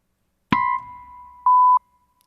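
A single steady censor beep tone sounds, with a louder final segment, clean and alone against silence.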